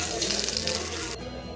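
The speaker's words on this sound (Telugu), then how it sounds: "మ్యాగీ కోసం చిన్న గ్లాస్ నీళ్ళు పోసుకున్నా" Water poured into a small glass for cooking Maggi noodles, a loud splashing rush from a tap that stops abruptly near the end, leaving a low hum.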